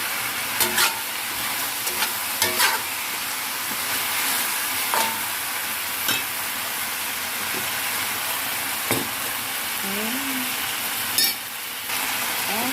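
Chicken stir-fried with soy sauce and spring onion, a steady sizzle running throughout with occasional spatula scrapes and clicks against the pan.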